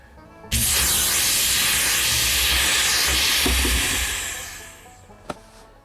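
The supply valve on an air lift under a 1959 International Travelall closes and the truck lowers, releasing a loud, steady hiss of escaping air that fades over several seconds and ends in a single short knock.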